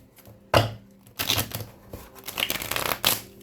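Tarot cards are shuffled up close in several quick riffling bursts with short pauses between them, crisp and fairly quiet, with no speech.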